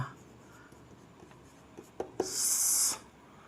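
Writing on a board during a physics lesson on the magnetic field of a current loop: faint scattered taps and scratches, then one longer, louder scratchy stroke, with no talking.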